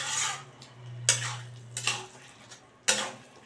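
Chicken keema with tomato sauce being stirred in a pan: three or four bursts of scraping and clattering from a spoon against the metal, close and moderately loud over a steady low hum.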